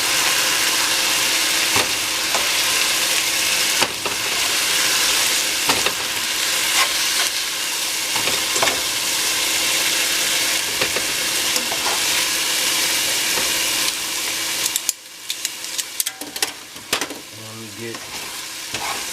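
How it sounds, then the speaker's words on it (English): Chicken thighs searing in a hot pan for a chicken and vegetable meal prep, a loud steady sizzle with scattered spatula scrapes and knocks, easing into quieter clatter near the end. "Just a little pan sear."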